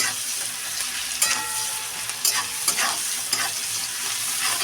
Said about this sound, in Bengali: লবণ দিয়ে দিলাম পেঁয়াজটা ভালো করে ভাজা ভাজা হোক